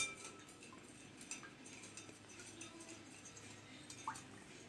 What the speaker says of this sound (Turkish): Ve bunu iyice karıştıralım.